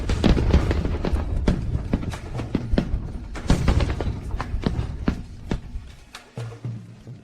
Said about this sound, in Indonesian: Aku menyalakan kembang api Dewi.